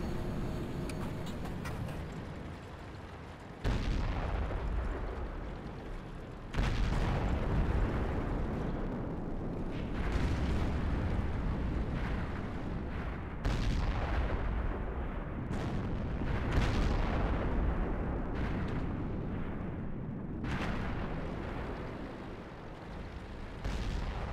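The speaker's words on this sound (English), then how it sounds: "let's switch over to the Gnomefather's historical gun sound mod again" Video game gunfire from a historical gun sound mod crosses a field in sustained booming volleys, with heavy, rumbling low-end blasts and overlapping shots that stay loud and dense throughout, with no voices.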